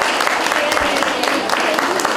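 An audience claps steadily and densely for a folk group at a folk festival concert in Lubawka. The applause fills the whole stretch, and a voice can be heard over it.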